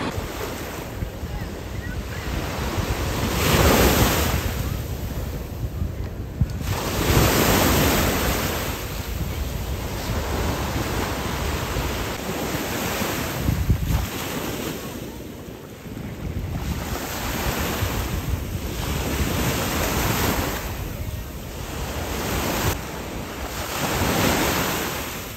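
Ocean surf at a Florida beach, waves surging and breaking in broad washes every few seconds, loud and close with heavy wind buffeting the microphone throughout.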